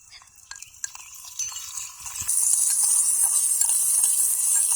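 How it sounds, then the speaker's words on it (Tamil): Tomatoes going into a pan of sautéed onions, a few scattered clinks and stirring scrapes followed by a sudden, steady louder sizzle that carries on to the end, close by, with no voices. "இப்போ தக்காளி சேர்த்துக்கலாம்."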